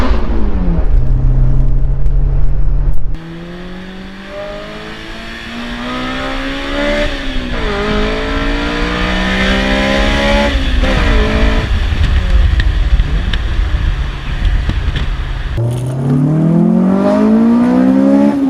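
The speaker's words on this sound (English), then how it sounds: "I'm gonna rev it under this bridge just for fun." A Honda VTEC engine revs hard under a highway bridge, climbing through the gears with rising, rasping pitch sweeps. It drops briefly at each shift, then surges again close and loud, echoing off the structure.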